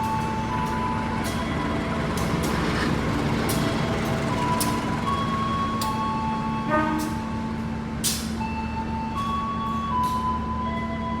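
A diesel locomotive of the KA Majapahit economy train, in service since 1998, idles with a steady low engine hum, while faint clanks and hisses from the station surroundings come and go.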